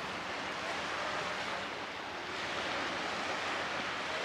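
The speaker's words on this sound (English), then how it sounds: "The sounds of the lapping ocean, they really are music to my ears." Ocean waves lapping at the shore, heard as a steady, broad wash of surf noise with gentle swells and some wind buffeting the microphone, with no voices.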